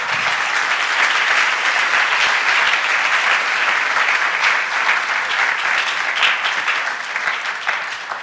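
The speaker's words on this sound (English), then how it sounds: "Can we give them a round of applause?" An audience claps for a panel of fitness industry speakers at a personal trainer institute event, a loud, dense, sustained round of applause that fades a little toward the end.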